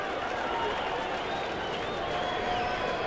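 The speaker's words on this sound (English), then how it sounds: "Fans applauding for a strikeout here for Washburn." Baseball fans in a stadium crowd applaud a strikeout by pitcher Washburn, a steady wash of distant clapping and cheering that lasts throughout.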